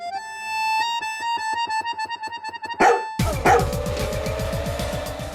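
Two sharp, loud dog barks burst out over a pulsing tone, followed by a rhythmic rumbling.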